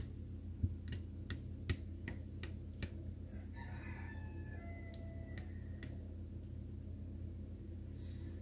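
A rooster crows once in the middle distance amid a few sharp clicks and taps, over a low steady hum.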